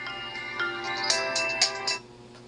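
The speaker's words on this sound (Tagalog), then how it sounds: "Kusang nabubuhay tong cellphone na to eh. Ito, yung Infinix. Nabubuhay siya." An Infinix cellphone switching itself on plays a tonal, chiming startup jingle with bright accented notes, steady and close, ending abruptly.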